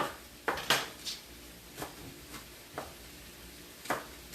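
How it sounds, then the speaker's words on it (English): A knife chops long strands of onion on a board in a home kitchen, making about eight sharp, separate knocks at an uneven pace, fairly close and otherwise quiet. "And I'm going to chop these onions, the long strands of onions,"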